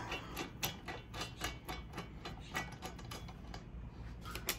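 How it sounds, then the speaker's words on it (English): A 5mm Allen key snugging bolts on a Suzuki V-Strom 650/1000 rear rack, giving a quick run of small metallic ratcheting clicks, close and fairly faint, with no talking. "we're going to take a 5mm Allen and we're just going to snug it"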